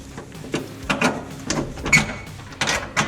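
Metallic clanks and ratcheting knocks come in irregular bursts as a leaf spring bolt is worked loose on a 1966 Mustang, close and fairly loud with short pauses between efforts.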